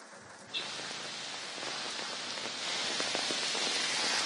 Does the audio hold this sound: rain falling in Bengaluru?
yes